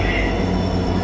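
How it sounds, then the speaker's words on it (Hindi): WDP4T diesel locomotive from Tughlakabad arriving with an express train on Indian railways, a loud, steady, close rumble with broad noise filling the short moment and no talking. "WDP4T लोकोमोटिव आया है तुगलकाबाद का।"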